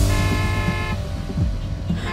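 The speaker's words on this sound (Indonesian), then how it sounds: "itu di belakang udah pada klakson" Car horns sound steadily in traffic, a sustained honk that cuts off midway, with road noise and engine rumble around it.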